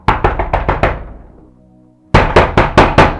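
A door is pounded with a fist in two quick runs of heavy, close thuds, five or six blows each, separated by a brief pause.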